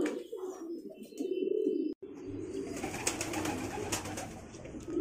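A pair of roller pigeons coos close by in soft, low repeated calls, with faint chirps and rustling in the background.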